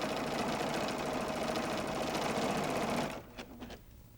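A sewing machine stitches quilt fabric and batting with a quarter-inch seam in a rapid, steady mechanical run for about three seconds. It then stops abruptly, followed by a few faint clicks and handling noises.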